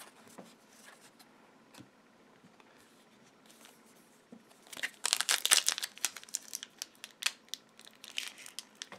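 Several Magic: The Gathering 2013 Core Set booster pack foil wrappers being torn and crinkled open, quiet handling at first, then a dense burst of loud close crackling and crumpling with sharp tears, no talking.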